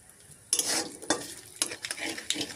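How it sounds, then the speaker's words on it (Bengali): Nigella seeds crackle and sizzle in hot oil in a wok after a quiet start, with a few sharp scraping strokes of a spatula stirring them, close and moderately loud, no voices. "কালো জিরেটা নাড়িয়ে চাড়িয়ে"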